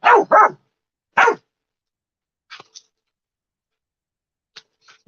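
A dog lets out two quick loud barks followed by a third, all close by, then only a few faint scattered sounds in otherwise quiet surroundings.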